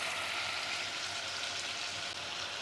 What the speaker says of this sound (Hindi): तो बीच बीच में चलाते हुए हमें चिकन को भूनना है।